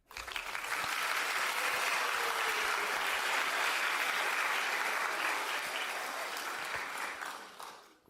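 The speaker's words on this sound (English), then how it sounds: "Let's go and give her a round of applause for getting it correct." An audience gives a round of applause for a winning fan during a live weather broadcast, swelling quickly into dense, even clapping that holds steady and then fades away over about eight seconds.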